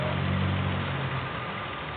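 A Nissan car engine idles steadily in a garage setting: a constant low rumbling drone with no revving, alone and fairly close.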